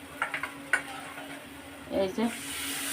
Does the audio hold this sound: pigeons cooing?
no